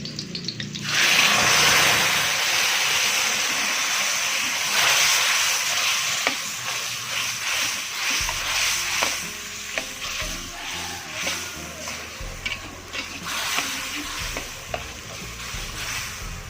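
Steady, loud frying sizzle of blended spice paste in a pan, with occasional stirring scrapes and clinks throughout, no voices.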